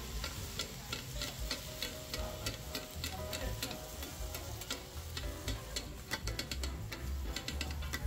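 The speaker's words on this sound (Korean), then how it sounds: "쉐키쉐키 잘 볶아줍니다." Cabbage, mentaiko, rice cake and other monjayaki ingredients are stir-fried on a hot griddle. Steady sizzling runs under quick, rhythmic scraping and clicking strokes of metal spatulas, close and continuous, with no talking.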